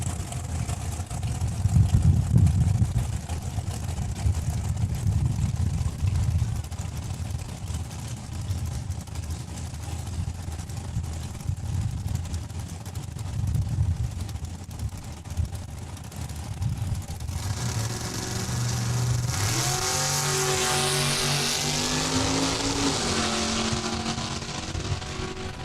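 A drag racing car makes a single pass at Saskatchewan International Raceway in Saskatoon: a steady, somewhat distant engine roar gives way to a louder, rising high-pitched whine near the end, with no one speaking.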